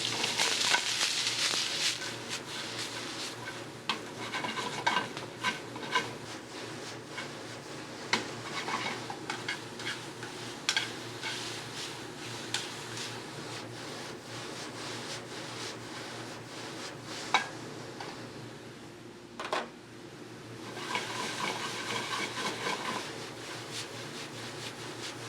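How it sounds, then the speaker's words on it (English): Julienned apple, celery root, shiitake mushrooms and Vidalia onions sautéing in bacon fat: a continuous soft sizzle with scraping, stirring clatter of a utensil in the pan and occasional sharper knocks, fairly close, no talk. "going to saute our vegetables in a little bit of bacon fat"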